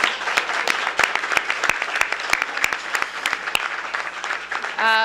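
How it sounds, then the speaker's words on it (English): An indoor crowd at a mayoral legislation signing gives a round of applause, steady claps from many hands filling the room, ending as a voice begins speaking. "Give them a big round of applause."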